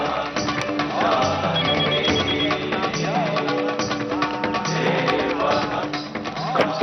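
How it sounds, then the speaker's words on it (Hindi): A mobile phone rings during a wedding puja ceremony, a repeating electronic ringtone melody sounding continuously over a busy room. "कम से कम पूजा में तो इसे अपना मोबाइल बंद रखना चाहिए।"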